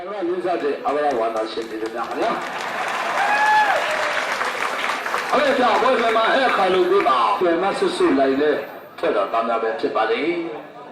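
Spectators at a Burmese chinlone (cane ball) exhibition clap and cheer continuously, with lively crowd voices, laughter and shouts mixed into the steady applause.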